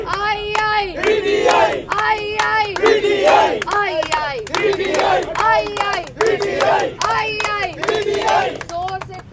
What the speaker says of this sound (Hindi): जोर से तालियों की गूंज में आई